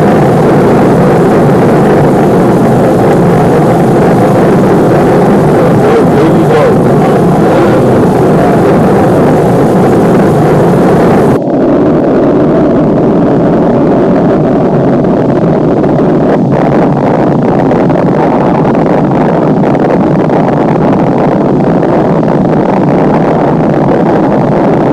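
A rocket launch with motor separation followed by vehicle failure, heard as a loud, steady broadband roar that cuts off abruptly midway and is replaced by a quieter, rushing wind-like rumble.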